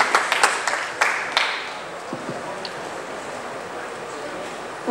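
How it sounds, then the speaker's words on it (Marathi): Applause for a speaker at a Marathi film event, a round of clapping from a crowd that rings out at first and then fades into a low murmuring hall. "जोरदार टाळ्या तेजस्विनी मॅम"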